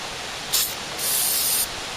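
Brake cleaner and parts cleaner hiss from aerosol cans into a riding mower engine in two close bursts, a short one and then a longer steady spray, with no talk.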